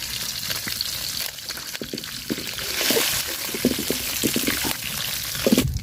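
Chopped onion and green chilli fry in oil left over from cooking a fish head, hissing loudly and unevenly as a utensil stirs and clatters through them, with a brief watery splash near the end.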